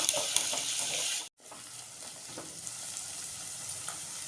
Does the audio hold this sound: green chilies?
yes